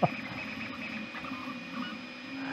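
A Two Trees SK1 3D printer runs at high speed, its steady mechanical whir and faint fan hum continuing alone and fairly quietly, with a short click at the start.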